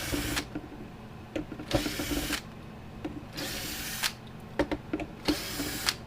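A power tool backs Allen head screws out of a Gallagher W210 weigh scale indicator in several short, close whirring bursts separated by brief pauses.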